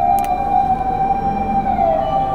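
An emergency vehicle siren on a city street in Osaka, a loud steady wailing tone that holds and then begins to bend in pitch as it passes, with traffic rumble underneath.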